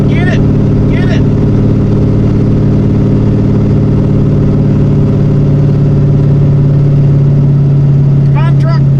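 A V8 Jeep Grand Cherokee Limited engine runs loud and close in a steady, heavy drone throughout, while excited voices shout encouragement over it.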